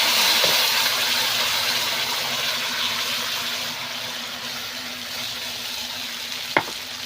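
Ground spice paste from a mixer sizzles and fries in hot oil for bitter gourd curry, a steady close hiss easing slightly over time, with a single sharp clink of a utensil near the end.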